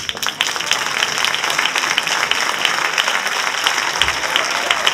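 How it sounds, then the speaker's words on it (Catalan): A large crowd applauds a school Nativity play, a dense steady roar of clapping that carries on without pause. "un bon aplaudiment pels misteris"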